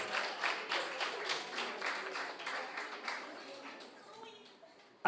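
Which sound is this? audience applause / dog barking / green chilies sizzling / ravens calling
audience applause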